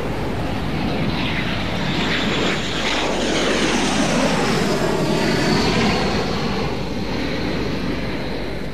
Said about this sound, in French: les Jaguars rentrant de mission et les Mirage 2000 partant honorer leur créneau de surveillance dans le ciel saoudien